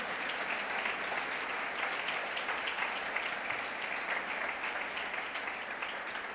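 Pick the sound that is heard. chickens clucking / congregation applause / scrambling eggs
congregation applause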